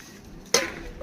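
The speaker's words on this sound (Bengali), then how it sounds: "তো বাসন মাজছি এখন।" Metal utensils clink once, sharp and close, while pots and dishes are being washed, over a low, steady background hiss.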